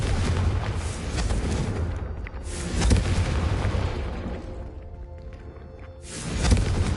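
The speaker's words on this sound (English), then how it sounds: "a Confringo cast travels a bit farther than that of a spell like Incendium" A Confringo fire spell cast in Hogwarts Legacy, heavy booming bursts that rise and fade over several seconds, with a loud concussive blast near the start and another swelling at the end.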